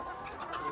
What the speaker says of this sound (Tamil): கோழி பிடிச்சி கொடுத்தாச்சு.